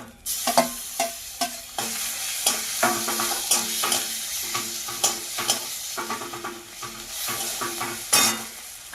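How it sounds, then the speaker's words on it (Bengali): Ground spice paste frying in plenty of oil in a wok, with a continuous sizzle broken by repeated sharp scrapes and clanks of a spatula against the metal. "এবার কড়াইতে অনেকখানি তেল আছে যেই তেল আছে ওই তেলের মধ্যে বেড়ে যাওয়া মশলা আমি দিয়ে দিচ্ছি"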